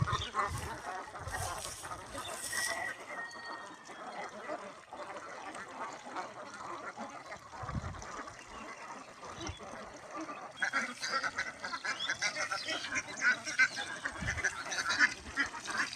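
A flock of ducks forages in the water and mud of a paddy field, quacking and honking in overlapping bursts at moderate distance over a steady outdoor background.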